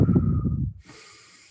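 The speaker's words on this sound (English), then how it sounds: "I recommend 3 to 5 deep breaths in through the nose" Deep breath drawn in through the nose during a theatre warm-up, a loud, close, rushing snort-like inhale lasting most of a second, then a quieter hissing tail.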